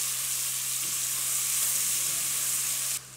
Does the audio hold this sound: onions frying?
yes